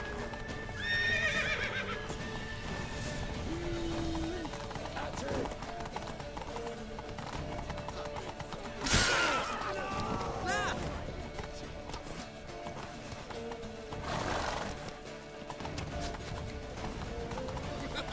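In The Witcher 3, hooves clip-clop in a steady galloping rhythm while a horse neighs sharply a couple of times, mixed with game ambience and voices talking over it.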